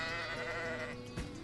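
A sheep bleating in the SkySaga video game, one drawn-out nasal bleat fairly faint and close, with a brief thud near the end and no talking.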